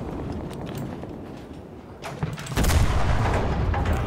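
Tank gun fire in the World War II shooter game Enlisted: a heavy blast lands midway through, then a dense rumbling roar that carries on loudly to the end, over quieter battlefield noise.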